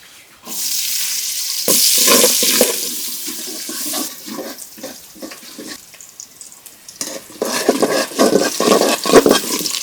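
Chopped onion hits hot oil with a loud rushing sizzle, then crackles on with intermittent stirring scrapes in a kitchen cooking hilsa fish with winter vegetables.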